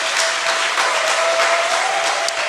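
Church congregation clapping to welcome a new member during a worship service, a dense, steady round of applause from many hands, loud and even throughout with no talk over it.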